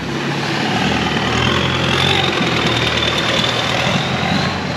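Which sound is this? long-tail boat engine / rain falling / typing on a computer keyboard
long-tail boat engine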